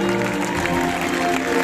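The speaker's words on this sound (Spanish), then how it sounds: "aplauso" Crowd at a town festival proclamation event in Lerma applauds in a brief, steady burst of clapping with some tonal background sound mixed in.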